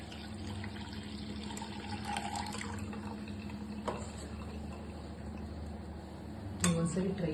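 Water runs and trickles steadily into a pot in a home kitchen, a continuous close pouring sound that ends in a louder splash, with faint voices in the background.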